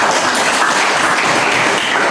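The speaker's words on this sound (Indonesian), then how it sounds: "Mari kita beri aplaus kepada Pak" A classroom group gives a short burst of dense, loud applause for their teacher, steady clapping filling the whole moment without any talking.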